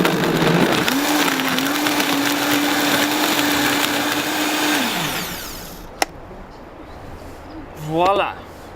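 A blender whizzes up a green aloe smoothie, its motor holding a steady whine for about four seconds before cutting out. A sharp knock and brief rattling follow in the quieter tail.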